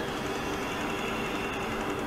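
A crowded passenger train rumbles past with a steady, continuous rail roar and faint wheel clatter, unbroken for the whole stretch.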